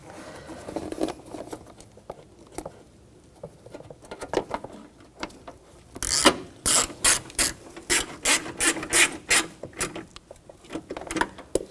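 A ratchet snugs down the lower headlight bolts on a 2000-2006 BMW X5, with scattered clicks and handling noises at first, then a fast, loud run of rhythmic ratcheting clicks close by.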